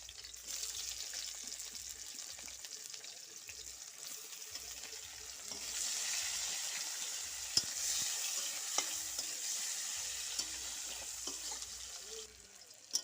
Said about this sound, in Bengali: পেঁয়াজগুলো লাল লাল করে ভেজে